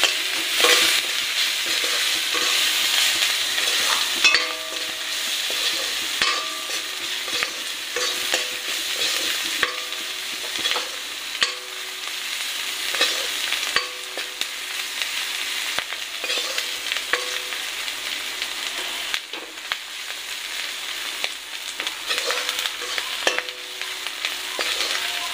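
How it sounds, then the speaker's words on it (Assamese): Spices, turmeric powder and a chili fry and sizzle in a pan for drumstick leaves with masoor dal, a steady loud crackle with repeated scraping stirs throughout and no talking. "এইখিনি এটা বঢ়িয়া কৰি ভাজিম।"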